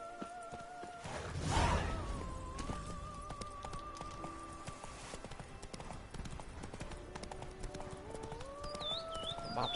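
Horse hooves clip-clop at a steady trot in The Witcher 3: Blood and Wine, a close rhythmic beat under continuous game music, with a brief louder whoosh near the start.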